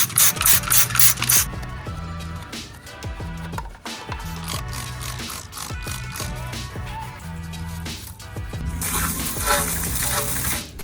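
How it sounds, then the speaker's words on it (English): Simple Green cleaner, used undiluted, sprayed onto car wheels in hissing bursts: a long stretch at the start and another near the end, with steady background music running underneath. "I personally like to spray the wheels first."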